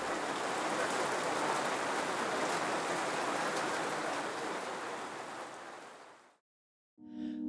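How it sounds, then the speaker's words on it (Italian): Steady, dense rain hiss fills most of the clip, close and fairly loud, fading toward the end before cutting out; a brief tonal sound follows. "Alla fine naturalmente piove,"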